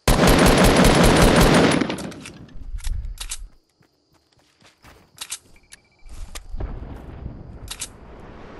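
Rapid automatic gunfire from a shooting video game opens with a loud, sustained burst. It then breaks into scattered single shots and clicks with brief near-silent gaps, before a second dense burst of fire near the end.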